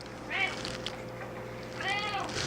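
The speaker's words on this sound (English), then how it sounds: "My cat is serenading you in the background." A pet cat meows twice, each a clear, drawn-out call, the first near the start and the second near the end, over a steady low background hum in a room.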